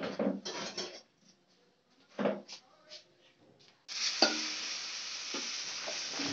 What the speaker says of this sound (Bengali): আদা, জিরে, লঙ্কা, টমেটো আমি পিষে রেখেছি, সেটা আমি ভেজে দেখাচ্ছি।